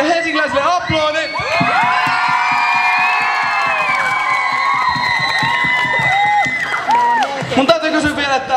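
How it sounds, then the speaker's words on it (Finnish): A sports-hall crowd at a live show in Haapavesi cheers, whoops and shouts loudly for visitors from Helsinki, with excited children's voices and some clapping carrying on for several seconds. "Annetaan kaikille helsinkiläisille aplodit!"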